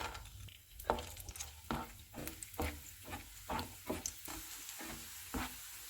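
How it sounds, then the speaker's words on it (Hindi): Raisins fry in hot oil for gond laddu, with a steady low sizzle broken by a regular series of stirring scrapes, close and fairly quiet, with no voices. "किशमिश फ्राई करेंगे, इसको भी फूलने तक फ्राई करेंगे।"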